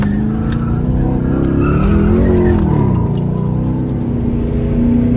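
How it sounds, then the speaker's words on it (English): Straight-piped Chrysler 300 Hemi doing a burnout on an interstate, loud raw engine roar with rising and falling revs over continuous tire squeal, close and sustained. "Finna shot this little burnout real quick down the interstate."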